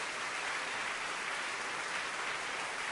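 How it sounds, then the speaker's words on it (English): Applause fills a theatre in the video game Kuukiyomi, a dense, even wash of clapping from a crowd that holds steady throughout with no talk over it. "who stands up and claps in the cinema?"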